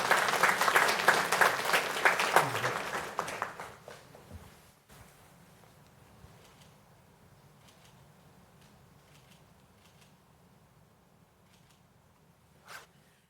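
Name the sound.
city council audience applause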